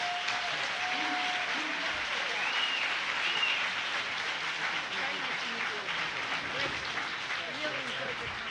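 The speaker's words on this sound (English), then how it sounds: "Can we have a round of applause for our panelists?" An audience applauds the panelists at the close of the San Francisco Reentry Summit panel, a fairly soft, steady patter of many hands, with some faint voices mixed in.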